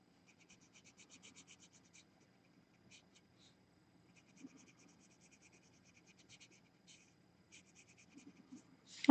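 Colored pencils scratch across paper in short, faint strokes, repeated in irregular bursts with pauses between, quiet and close.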